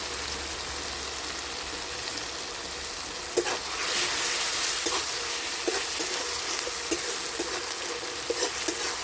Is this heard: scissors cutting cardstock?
no